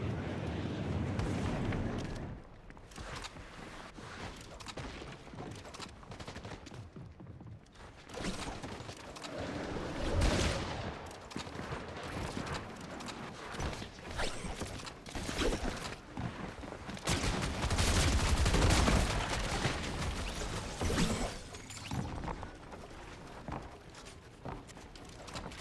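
A scoped hunting rifle fires in a video game, with sharp, loud shots and booming bursts scattered across the clip amid clattering mechanical game noise.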